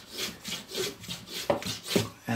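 Hand rasp shaping wood for chopsticks, rhythmic back-and-forth scraping strokes roughly twice per second, close and moderately loud, with no talking.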